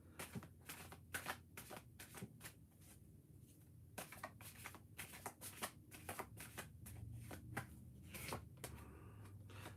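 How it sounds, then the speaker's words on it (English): Tarot cards are shuffled by hand close to the listener, giving repeated quick riffles and soft slaps in an uneven rhythm, with brief pauses between bursts and no speech. "But let's pull some tarot cards."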